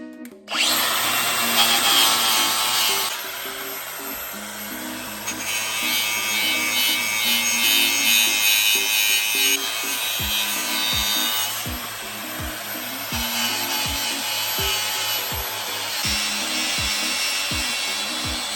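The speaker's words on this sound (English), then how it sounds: "Flap disc, 120 grit, worked perfect." A 120-grit flap disc grinds on the crashed front end of a Ferrari 458 Spider, producing a loud, close, abrasive whine in long bursts, with a rhythmic series of low thumps in the latter part; no speech.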